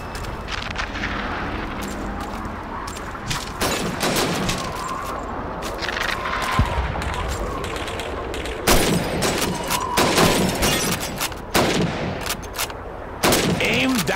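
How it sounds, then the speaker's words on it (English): Rifle fire at bottles and plates on a shooting range in Call of Duty 2, a World War II game: sharp, loud shots in an irregular series with shattering impacts, and brief talk between some shots. "Shoot those bottles and plates."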